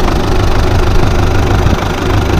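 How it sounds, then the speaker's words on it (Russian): A tractor engine running steadily while baling hay, a loud, close, continuous mid-pitched rumble with a slight knocking texture and no voices. "Мотор шепчет."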